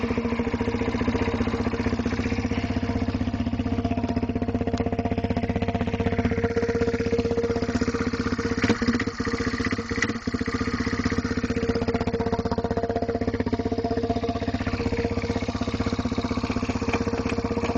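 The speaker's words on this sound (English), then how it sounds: "It's 250 Yamaha Bear Tracker 2001 model, and we're about to fire it up." A 2001 Yamaha Bear Tracker 250 ATV engine idles steadily and close up through an improvised muffler, a continuous low rumble with a rattly edge and a couple of brief dips near the middle.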